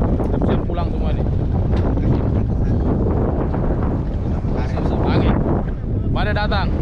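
Strong gusting wind buffets a fishing boat at sea during a sudden squall, a loud continuous rush with heavy microphone wind noise, broken by brief bursts of voices talking over it.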